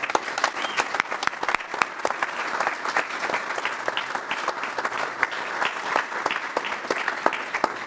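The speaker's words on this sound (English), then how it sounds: "Let's give them a great big round of applause." A city council chamber audience gives a sustained round of applause for the Drake University Bulldogs, dense clapping from many people that continues evenly from start to finish.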